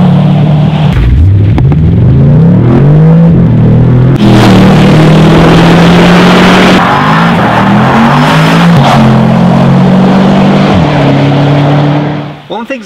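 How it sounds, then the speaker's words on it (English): A Bentley Continental GT V8 with an active-valve sport exhaust revs hard again and again, its deep sporty exhaust roaring and crackling up close, each sweep rising in pitch and then settling back. "this is our new Bentley GT V8 exhaust with active valves, and it sounds brutal"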